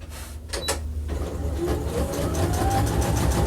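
Sewing machine stitching down the sides of a handmade duffle bag, a steady mechanical whirr with faint clicking, running fairly close and continuously through the short stretch.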